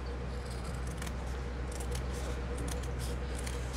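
Scissors snip through fabric in steady, close cuts, a series of soft crisp slicing bursts over a quiet room hum.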